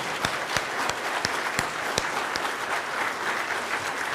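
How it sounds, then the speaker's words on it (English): Worship service congregation clapping again for performers, a steady wash of many hands with a few sharper individual claps standing out, moderately loud throughout with no talk over it. "Let's clap again for them"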